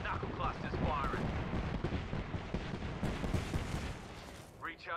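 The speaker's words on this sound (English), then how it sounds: "Knuckle cluster's firing." Knuckle Cluster ordnance firing in the Apex Legends shooter game, a dense, continuous crackle of rapid bursts and blasts, loud and close, with voices speaking over the combat.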